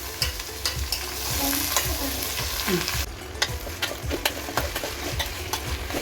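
A nutmeg pickle mixture fries in a pan while being stirred, with rhythmic scraping strokes roughly every half second over a steady, close sizzle; no one speaks.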